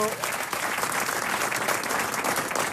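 Studio audience applause on a French comedy panel show, dense sustained clapping from a crowd filling the whole stretch at an even, full level.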